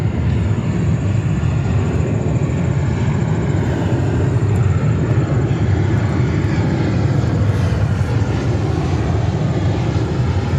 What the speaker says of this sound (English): there's another JetBlue 320 in the mint livery.